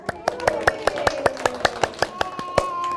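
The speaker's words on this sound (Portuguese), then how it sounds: "Vamos bater palmas?" Rhythmic hand clapping by a group of children, about fifteen even claps at a steady beat, with voices singing or chanting along underneath.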